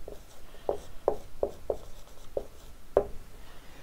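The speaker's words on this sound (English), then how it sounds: "And so I'll write that down." Pen or marker writing on a surface during a chemical engineering lecture, a series of six short scratchy strokes spaced irregularly, close and fairly quiet with no talking.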